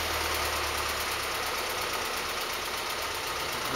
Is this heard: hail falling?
no